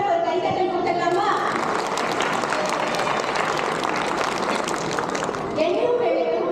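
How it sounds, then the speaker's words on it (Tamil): Dense applause from an audience at a stage event, clapping for a young girl, loud and sustained with crowd murmur and children's voices mixed in. "நம்ம அக்ஷரா ஒரு கைத்தட்டல் கொடுத்துடலாமா?"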